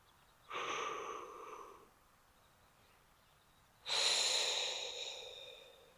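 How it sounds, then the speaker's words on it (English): Deep breathing while holding a shoulder stretch: two slow, close breaths, a long inhale followed by a longer, airy exhale with a short quiet pause between them. "Breathing deeply."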